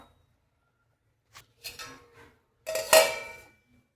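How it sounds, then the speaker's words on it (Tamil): A metal lid clinks onto a cooking pot of spinach, with a brief tap, a short rattle and then a louder ringing clatter as it settles, close up in an otherwise quiet kitchen. "மூடி போட்டு வச்சுக்கலாம்"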